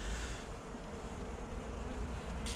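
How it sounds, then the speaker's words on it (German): Honeybees buzz in a home hive during a December winter treatment, a steady low hum with a soft, continuous drone and no voices. "Ihr seht ja, hier oben haben wir auch noch Bienen sitzen."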